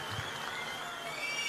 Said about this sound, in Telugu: గట్టిగా చప్పట్లు కొట్టి మనస్ఫూర్తిగా అభినందించండి.